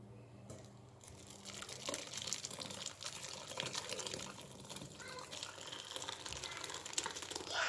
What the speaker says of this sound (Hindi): मैंने इसका पनीर का सारा पानी छान लिया